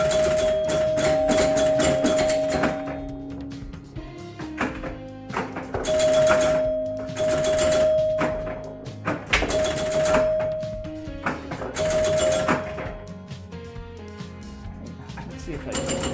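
A 1978 Eye of the Tiger electromechanical pinball machine is played, with clanging bell tones, thunking flippers and rattling mechanical scoring in loud repeated bursts, while a person talks throughout.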